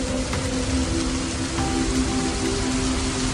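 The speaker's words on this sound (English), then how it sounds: "Then the first drops of rain fall onto the dry earth and seep into the cracks." Rain patters steadily onto dry, cracked earth in a dense, even hiss of drops, constant and fairly close, with a faint low hum underneath and no voices.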